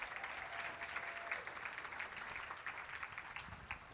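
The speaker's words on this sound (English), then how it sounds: "Give them a round of applause." A summit audience claps in sustained, dense applause, heard steadily from within the room.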